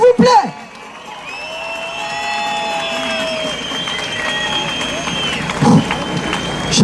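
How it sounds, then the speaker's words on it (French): A rally crowd for the NPA (Nouveau Parti Anticapitaliste) applauding and cheering for Olivier Besancenot, sustained clapping with whistles and shouts rising over it, plus a couple of louder bursts near the start and end. "je voudrais que vous applaudissiez très fort Monsieur Olivier Besancenot pour le NPA, avec vos applaudissements s'il vous plaît"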